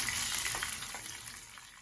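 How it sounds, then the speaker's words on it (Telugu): Green chillies sizzling in hot oil with a tempering of urad dal and mustard seeds, a steady close crackling hiss that fades slightly over a short moment. "ఇప్పుడు ఈ పోపు కూడా వేగుతూ ఉన్నప్పుడు కారానికి సరిపడా పచ్చిమిరపకాయలు కూడా వేసి దోరగా"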